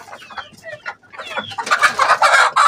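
Egyptian (Misri) chickens cluck and squawk up close, a few soft calls at first building into a loud, busy run of overlapping clucks.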